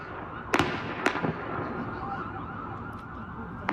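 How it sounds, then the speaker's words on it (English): Local TV news footage carries two sharp gunshots in a neighborhood, about half a second apart, then a couple of fainter cracks later, over steady background noise with sirens. "try to get an assessment here of the number of gunshots we hear"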